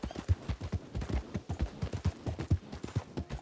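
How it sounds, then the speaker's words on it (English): A horse's hooves clip-clop steadily at a brisk gait while riding in the Red Dead video game, a rhythmic run of close, fairly quiet thuds with no talk over them. "the two of us riding on a horse going down a railroad?"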